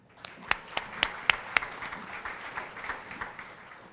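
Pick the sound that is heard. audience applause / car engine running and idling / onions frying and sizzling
audience applause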